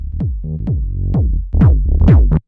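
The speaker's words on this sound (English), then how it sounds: "it's just getting so crunchy and so saturated that these are just kind of coming together" Heavily distorted, crunchy kick drum thumps and bass notes from a deep minimal house track pound in a short loud pattern, thick saturated low end cutting off abruptly.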